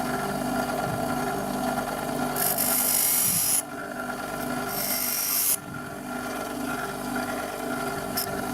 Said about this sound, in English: After cutting the jumper I once again sharpen the cutting edges.